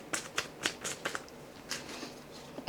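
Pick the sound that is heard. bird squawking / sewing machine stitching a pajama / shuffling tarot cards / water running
shuffling tarot cards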